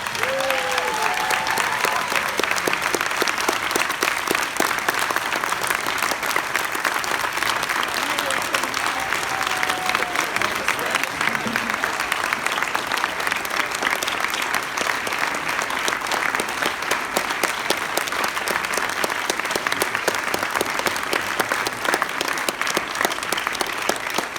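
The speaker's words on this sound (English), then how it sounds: "give them a rousing round of applause" A large convention audience at a Planet of the Apes anniversary panel claps in dense, sustained applause for over twenty seconds at an even, loud level, with faint voices underneath.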